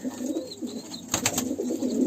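Pigeons coo close by in low, throaty, repeated murmurs, with a brief flurry of sharper sounds in the middle and no voices.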